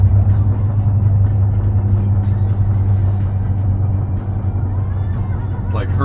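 A car engine with a slight misfire runs steadily while driving, a loud low rumble with road noise holding constant throughout, no talking.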